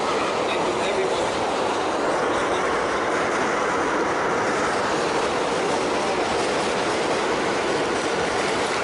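A train passes with a loud, steady broadband roar of rolling wheels and rail noise that holds at an even level for several seconds, without any voices.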